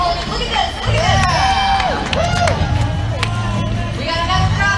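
A crowd at the finish line of the Rumpshaker 2016 run cheers and shouts loudly and continuously, with excited high voices and whoops layered over dense babble.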